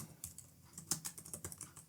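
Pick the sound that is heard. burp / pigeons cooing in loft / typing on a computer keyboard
typing on a computer keyboard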